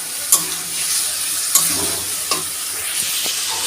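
Loitta fish drops into a pan of fried spice paste, a close sizzle with a few sharp clanks and stirring scrapes, no voices.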